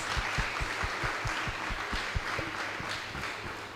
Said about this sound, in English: Let's all applaud for ourselves